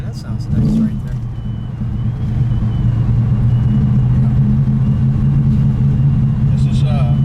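Gold 1969 Dodge Dart GTS GT Sport with a 340 V8 engine, a steady low rumbling drone while driving, loud and close, with a voice speaking over it.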